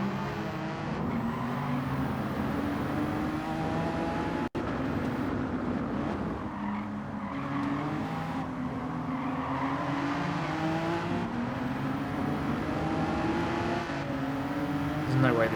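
Race cars including an NSX and an Aston Martin in Gran Turismo 7, engines droning and shifting steadily through corners at a constant loud level, with a brief dropout partway through.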